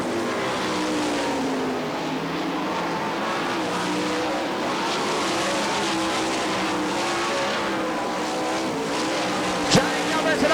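Sprint cars racing on the final lap at an All Star Circuit of Champions Winternationals event in Gibsonton, Florida, a dense continuous engine roar from a pack of cars under a race announcer's commentary.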